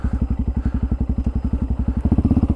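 A Honda motorcycle being ridden, its engine giving a loud, close, evenly pulsing thump that quickens slightly toward the end.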